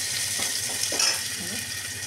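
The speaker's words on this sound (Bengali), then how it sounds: "পেঁয়াজটা ভাজা হয়ে গেছে" Onions fry in oil in a home kitchen, a steady hiss and crackle holding evenly throughout with a few faint scrapes, close by and moderately loud, no voices.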